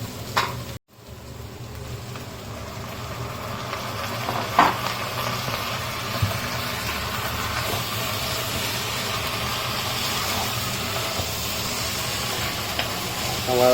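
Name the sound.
mutton frying in a pan with golden onions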